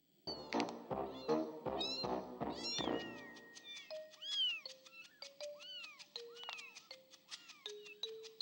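Cartoonish cat meows from the video game Amanda the Adventurer 2, a series of repeated high meows with chiming tones rising then falling, fairly faint with no voices.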